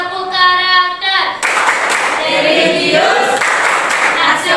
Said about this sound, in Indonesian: Tepuk karakter.